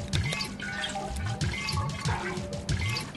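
Small murukku pressed from a cookie press fries in hot oil, bubbling and sizzling steadily up close with quick little pops and gurgles.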